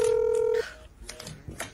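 A telephone emits a steady electronic dialing tone for about half a second, then stops and is followed by faint clicks and low background noise.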